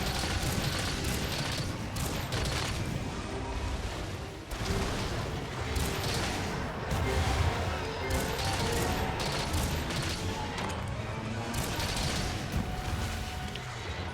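Heavy bowgun blasts Pierce rounds at the Kushala Daora in a video game, a steady run of loud, dense shots and impacts packed over a busy battle backdrop with no talking.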